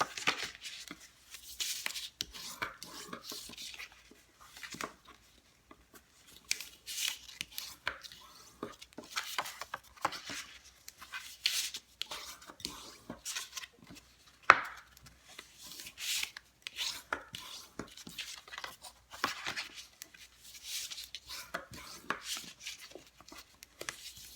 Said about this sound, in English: I'm using my bone folder to make nice and crisp folds